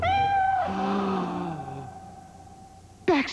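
A cat meows in a long, drawn-out call that bends downward, followed after a short pause by a sharper, higher meow.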